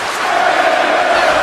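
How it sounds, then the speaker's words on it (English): A dense, roaring crowd at an ICW wrestling pay-per-view cheers and shouts loudly and steadily throughout, a continuous wall of voices with no pauses. "This crowd is as live as I've ever heard any crowd that we've been in"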